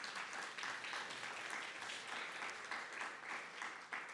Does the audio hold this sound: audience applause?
yes